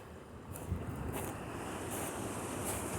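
Waves surge and break on a rocky shore at Praia do Ouvidor, a steady roar of surf with periodic bright crashes, mixed with wind noise across the microphone and no voices.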